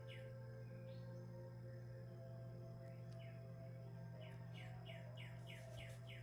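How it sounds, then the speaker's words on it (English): A bird chirps in short rising whistled notes, sparse at first, then a quicker run of repeated chirps toward the end, fairly clear over a steady low hum. "Our bird is back."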